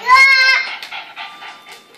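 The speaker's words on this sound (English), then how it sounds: "Stop, doggy! The dog's gonna bite you." A dog's high, whining yelp rings out clearly for about half a second amid children playing with Christmas gifts, then trails into softer, fainter sounds.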